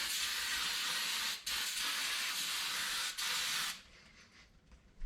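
Carburetor cleaner sprayed from an aerosol can, used while rebuilding a Holley carburetor on a 350 engine: a loud, steady broadband hiss in two long bursts with brief breaks, then cutting off into quiet.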